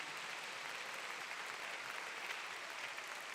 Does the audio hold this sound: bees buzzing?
no